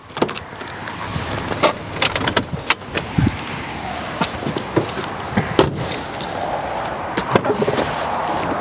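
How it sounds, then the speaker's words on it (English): A black Mini One 1.6 manual hatchback is unlocked, with a series of sharp close mechanical clicks, clunks and latch knocks spread irregularly over several seconds and a low background hum between them. "Nothing works because it's all locked, so let's unlock it."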